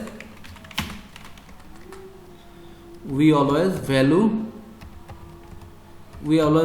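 Computer keyboard typing while a title is entered in a text editor, soft rapid taps running through the clip with a voice speaking over parts of it.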